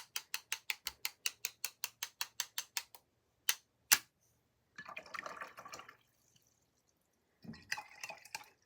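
Watercolour paint splattered from a brush onto paper: a quick, even run of about a dozen light taps, then two sharper hits and a few soft scattered patters, all close and fairly quiet.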